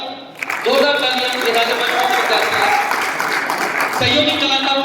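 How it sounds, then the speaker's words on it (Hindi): An audience applauds loudly after a stage performance, clapping rising quickly and holding steady, with a voice and musical tones heard over the crowd. "जोरदार तालियां।"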